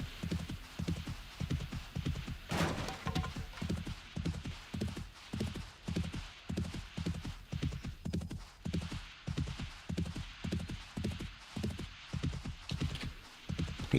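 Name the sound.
horse galloping in video game 7 Days to Die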